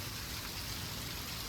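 Heavy rain pours down over a farm yard in Banaskantha during a thunderstorm, a dense, even hiss of falling water heard from some distance and fairly faint, with no voices.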